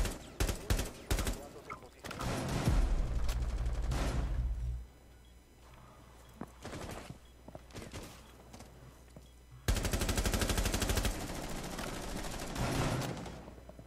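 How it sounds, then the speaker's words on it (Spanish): Bursts of gunfire aimed at a drone in Rainbow Six on PS4, rapid automatic volleys in several clusters with quieter gaps between, then a long sustained burst near the end. "No, estoy disparando un puto dron."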